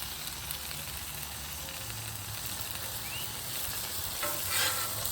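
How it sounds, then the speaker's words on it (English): Smash burger taco meat grills on a hot griddle, giving a dense continuous sizzle that holds steady throughout, up close, with a slight swell near the end. "Let that continue to grill on one side"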